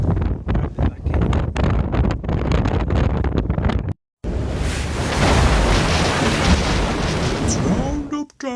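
Strong wind buffets the microphone on a beach in loud, roaring gusts, choppy at first and then a continuous blast after a brief cut-out.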